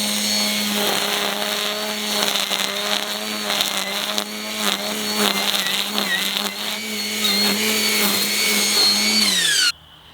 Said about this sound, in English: So now we'll try the trimming around some hardscape areas.